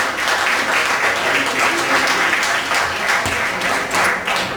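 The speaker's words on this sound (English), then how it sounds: "Sure, you guys can applaud." An audience at a comedy club bursts into dense, sustained applause, loud and even across the whole stretch, with no one talking over it.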